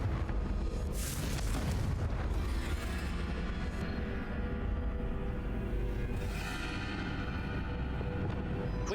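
A Confringo fire spell bursts in Hogwarts Legacy on PC with loud, booming blasts. A sharp burst comes early and another later, over a dense, rumbling game soundscape.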